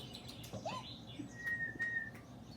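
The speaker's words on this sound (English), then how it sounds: "Hear all these birds, Kitty?" Birds chirping outdoors, a few scattered chirps and a thin sustained whistle heard at moderate distance over a low steady background hum.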